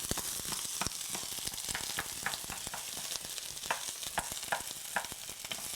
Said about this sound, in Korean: 양파를 넣어가지고 살짝 이제 양파 향이 올라오게 한 다음에